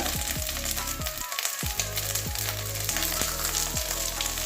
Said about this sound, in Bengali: একসঙ্গে বেশি ভাজা দেওয়া যাবে না এই চারটে চারটে করেই ভেজে নেব এক পিঠটা ভাজা হবে তারপরে আবার উল্টে দেবো